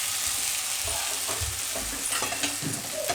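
Orange rice is stirred as it fries in a pan, a loud continuous sizzle with scraping and shuffling of the spoon through the grains, heard alone without speech.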